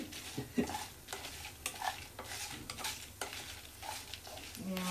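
Chutney ingredients fry in a pan as a spoon stirs them, a continuous soft sizzle broken by regular scraping strokes and light clinks of utensil on metal, close and unaccompanied by speech.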